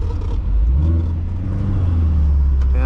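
A 2016 Chevrolet Corvette Stingray with a seven-speed manual gearbox fires up: a short starter crank, then a loud, deep V8 rumble that catches and settles into a strong, close idle.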